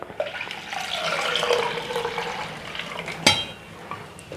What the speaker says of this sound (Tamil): தேவையான அளவு நம்ம தண்ணி ஊற்றிடலாம்